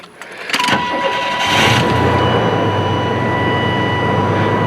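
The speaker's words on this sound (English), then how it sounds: "I didn't top off the coolant yet because I wanted to see what happens when I crank it up" A 1994 Astro van engine after EGR replacement, with a brief starter crank followed by the engine catching and settling into a loud, steady idle with a sustained hum.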